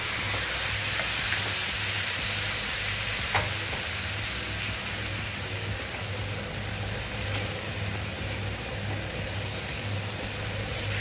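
Grated coconut cooks in ghee with sugar and milk over medium heat for mango coconut barfi. The pan gives a continuous, even sizzle with a low hum underneath and no voices.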